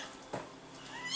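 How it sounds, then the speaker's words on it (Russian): A kitten gives a single short meow partway through, faint and close, against a quiet indoor room background with no talking. "Мяу, говорит, мяу."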